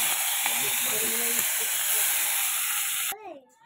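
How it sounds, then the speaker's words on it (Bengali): Prawns sizzling in hot oil in a home kitchen pan give a loud, steady hiss for about three seconds before it cuts off abruptly, with faint low sounds underneath. "এবার চিংড়ি মাছটা তেলে একটুখানি ভেজে নেবো ভালো করে"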